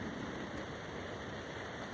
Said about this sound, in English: It's very, very calm right now, but the rain is really coming down.